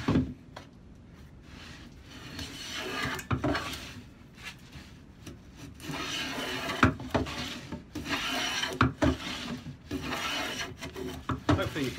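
A Stanley No. 10 rabbet plane takes repeated shavings off wood, giving close, dry rasping strokes in an uneven rhythm with brief pauses between passes.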